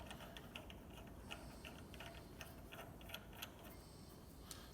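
A ratchet winds a puller to draw a damper off a car crankshaft, giving faint, irregular metallic clicks over a steady low mechanical hum, with no talk.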